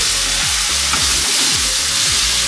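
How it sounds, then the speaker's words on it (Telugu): Ginger garlic paste fries steadily in a pan for chicken fry, a loud, continuous sizzle with soft scraping stirs recurring about twice a second, and no talk. "ఇలా టూ మినిట్స్ ఇలా ఫ్రై అవ్వాలి పచ్చివాసన పోవాలన్నమాట"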